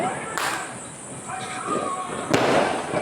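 Diwali firecrackers and rockets burst in sharp, loud cracks against a dense crackling background, with two prominent blasts standing out amid continuous distant popping.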